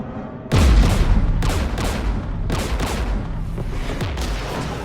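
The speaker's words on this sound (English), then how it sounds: "We're taking fire." Incoming fire from Geth anti-aircraft guns in Mass Effect 3, a sudden loud burst followed by repeated heavy booming volleys and rumbling gunfire.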